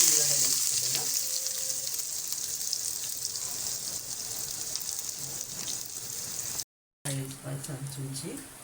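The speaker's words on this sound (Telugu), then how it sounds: "ఆయిల్లో జీలకర్ర వేసుకుంటున్నా. జీలకర్ర వేగితే నేను ఉల్లిగడ్డ వేసుకుంటున్నా" Cumin seeds frying in hot oil, with chopped onion then added to the pan, giving a steady close sizzle; someone speaks over it and there is a brief dropout near the end.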